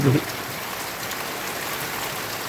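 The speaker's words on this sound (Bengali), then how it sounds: "গতকাল সন্ধ্যা থেকে আমাদের সিলেটে শুরু হয়েছে রিমঝিম বৃষ্টি" Gentle, steady rain falls in Sylhet, a soft continuous patter with a brief louder knock at the very start and no speech.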